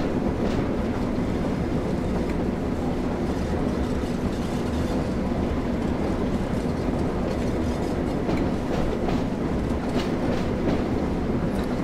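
Train rolling while shunting at a steelworks yard in Train Sim World 2 on the Tees Valley Line: a continuous, steady rumble with faint rail clatter throughout, no voices.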